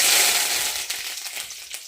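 Crackling, spattering sizzle of curry leaves hitting hot oil, loud at first and then settling into a steady frying hiss with scattered pops.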